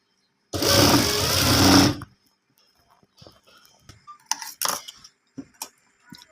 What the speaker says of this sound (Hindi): तो यहाँ पे मैं इसको सिलाई लगा दूँगा, ये सीधी सिलाई लगनी है इसकी।